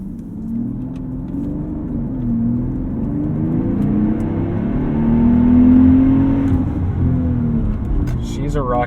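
A 2012 Mercedes-Benz S65 AMG accelerates from a brake-held launch, its engine droning and rising steadily in pitch from inside the cabin, loud and continuous.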